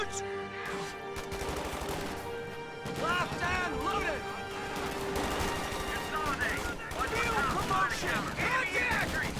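Bursts of MG34 machine gun fire from a house in a World War II strategy game, mixed with rattling shots, distant crashes and battle noise, while someone talks over it.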